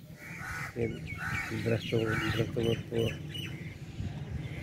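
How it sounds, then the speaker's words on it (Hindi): Birds calling from trees in a village beside ripe crops and a banyan tree, harsh caw-like cries repeating in short bursts, fairly near, with someone talking over them. "परिंदों की चहचहाहट है ये सिर्फ गांव के अंदर ही मिल सकती है"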